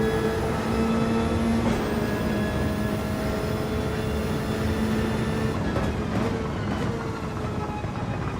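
A race car in Gran Turismo 7 runs with a steady, droning engine note that holds throughout, with a few faint tonal shifts as the rear tires spin up.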